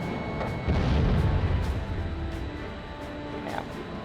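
Enemy gunfire during an aerial dogfight in Ace Combat Zero, a scattering of sharp distant bursts and booms over a steady rumbling background of jet noise.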